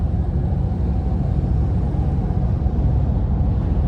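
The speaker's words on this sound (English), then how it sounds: "the sound in here, even though it's a heavy duty truck, it's not overly loud." Low, steady rumble inside the cabin of a 2024 RAM 2500 heavy-duty truck with the 6.7 Cummins engine while it drives, moderately loud and even, with no voices.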